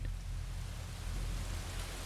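Heavy rain pours down in a steady, dense wash, loud and close, with a deep rumbling low end, like a downpour outside a quiet hospital floor at night.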